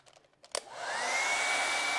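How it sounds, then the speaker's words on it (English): A few faint clicks and a bump, then a hair dryer switches on and blows steadily with a loud, broadband whoosh and a thin high whine. "Now I'm going to dry that with a hairdryer"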